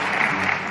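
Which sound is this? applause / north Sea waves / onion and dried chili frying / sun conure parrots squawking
applause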